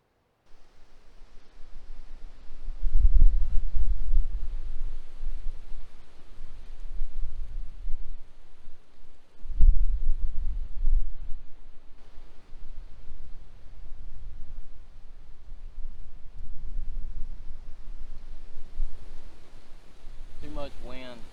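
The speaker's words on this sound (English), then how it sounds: "Too much wind." Outdoor wind by a river buffets the microphone in rough, rumbling gusts that rise and fall across the recording, with a voice heard briefly near the end.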